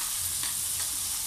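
Seafood sautés in a hot pan with a dense, even hiss and crackle, close and steady for a brief moment, with no speech over it.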